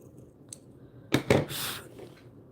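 Scissors cut paper for a glue book page, with a cluster of crisp, close snips and rustles about a second long, then quiet handling noise.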